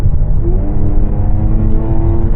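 Jaguar F-Type engine holding a steady, loud rumble at speed as the throttle is lifted and reapplied, with a continuous low droning tone and no clear pause.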